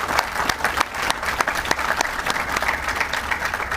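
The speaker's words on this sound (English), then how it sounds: "Let's give a round of applause to the 101st Band." Sustained audience applause at a military change of command ceremony for the 101st Band, dense clapping from many hands filling the whole stretch at steady loudness.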